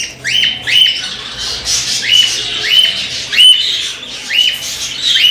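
Cinnamon ino cockatiel squawking while being held in the hand, a loud close series of sharp repeated harsh calls at a quick uneven rhythm, with no talk.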